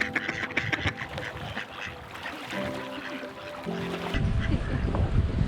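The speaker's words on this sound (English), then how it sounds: "Ducks." Ducks quack on a pond during feeding amid wind and water noise, several harsh overlapping calls of moderate loudness with rustling and a rougher gust toward the end.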